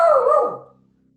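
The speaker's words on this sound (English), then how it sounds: "my dog started barking" A single dog bark rings out, fairly close and loud, one short burst that fades quickly into near silence.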